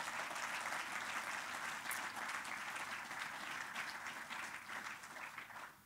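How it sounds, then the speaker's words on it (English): Sustained applause from an audience at a Formula Student event at Silverstone, steady and fairly dense clapping throughout without speech. "So can we get a round of applause for Matt, please?"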